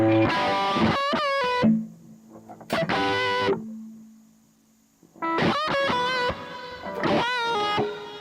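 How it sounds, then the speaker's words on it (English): Distorted electric guitar chords strum in bursts with a spacious reverb tail lingering between phrases, including a low sustained note ringing out during a pause. "Kemper has something called natural reverb."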